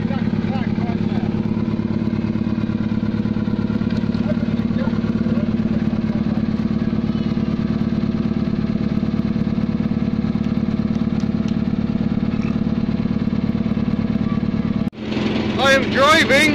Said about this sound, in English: I am driving the noisiest thing in the world. It's a JCB with a pantograph wiper.